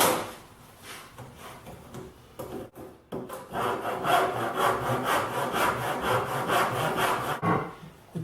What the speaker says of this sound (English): Cut the second board exactly the same length.